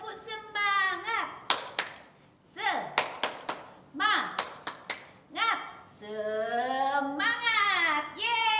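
Children at an online Sunday school service do rhythmic spirit clapping: short bursts of sharp claps fall between a leader's lively, sing-song speech, with the voice dominant and the claps crisp and close.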